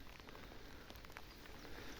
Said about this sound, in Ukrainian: Дощик посилився, потрібно буде надягати плаща вже.